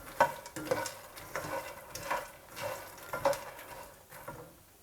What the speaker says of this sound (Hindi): अब 1 टीस्पून घी डाल के फूल मखाने रोस्ट कर लेंगे